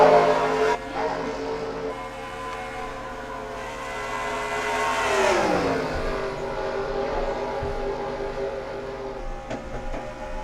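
NASCAR race cars roar in the NR2003 racing game, a continuous engine drone with a pass-by pitch drop midway, moderately loud and without talk.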